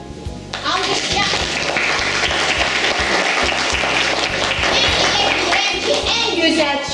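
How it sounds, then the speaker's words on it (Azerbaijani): Sustained audience applause at a reunion event for 2003 school graduates, dense steady clapping filling the room from start to finish, with faint voices mixed in. "Alqışlar."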